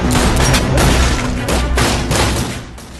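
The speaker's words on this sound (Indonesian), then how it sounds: "Tembak-menembak pun tak terhindarkan." Gunfight in a Donnie Yen action film: dense, loud bursts of gunfire and booming impacts pile up continuously for about three seconds, with no speech.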